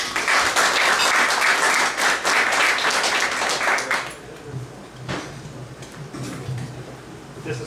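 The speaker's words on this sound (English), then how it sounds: "if you can give a round of applause to Kyle" An audience gives a round of applause for a physiotherapist speaker, dense clapping for about four seconds before it fades into scattered claps and room murmur.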